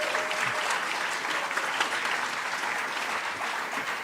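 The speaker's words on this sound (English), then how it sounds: "Can we get one more round of applause as these guys head back to their seats?" Audience applause fills a campaign launch event hall as candidates head back to their seats, a steady dense wash of many hands clapping at close range for about four seconds.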